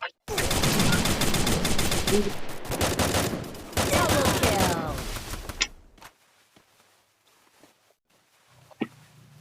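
Rapid automatic gunfire and repeated shots in the mobile battle royale game Free Fire, loud and dense for several seconds before fading to scattered quieter sounds, with players talking over it.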